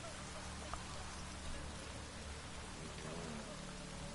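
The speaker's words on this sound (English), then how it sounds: "Oh, it's drizzling." Steady light drizzle falls in an outdoor scene of the video game The Witcher, a soft continuous hiss of raindrops on surfaces with faint low ambient rumble beneath, no talking.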